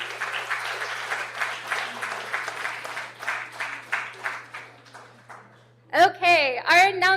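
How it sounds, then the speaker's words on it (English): A lecture audience at a public astronomy talk applauds with steady, dense clapping for about five seconds. The clapping fades out, and a voice then begins speaking close by. "a round of applause for everyone"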